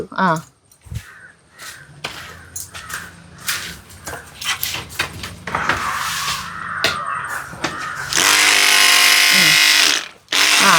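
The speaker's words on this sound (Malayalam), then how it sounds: "ഒന്ന് സ്കാലർ എന്ന് പറഞ്ഞിട്ടുള്ള മെഷീൻ" A fish scaler machine strips scales from snakehead fish on a fish farm, with scattered clatter and then a loud, steady, high-pitched mechanical whir near the end, and people talking over it.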